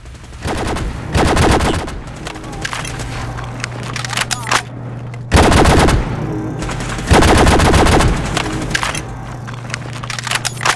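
Loud, rapid bursts of automatic gunfire from the video game Fallout 4, with sustained volleys and a couple of heavier blasts over a steady low game hum.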